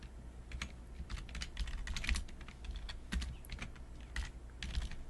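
Quiet, close typing on a computer keyboard, a quick run of soft, irregular key clicks over a low background hum, with no talking.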